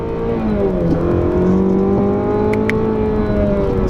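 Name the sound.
2017 Chevrolet Camaro 2.0L turbo accelerating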